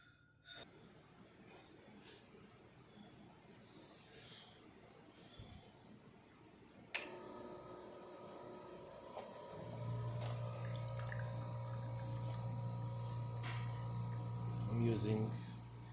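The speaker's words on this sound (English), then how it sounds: "So let's go ahead and make espresso shot in the machine." Gaggia Classic espresso machine pulling a shot: after a quiet stretch of faint handling, the pump kicks on suddenly with a loud, steady buzzing hum that drones on, joined later by a low vibrating tone.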